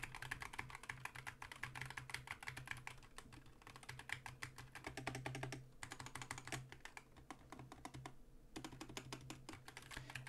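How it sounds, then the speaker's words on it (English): Rapid typing on a GMMK 2 barebones ISO mechanical keyboard, a steady stream of close, crisp key clacks with irregular rhythm and brief pauses, alone without talk. "Just try to focus on how the switches sound and how the keyboard sounds."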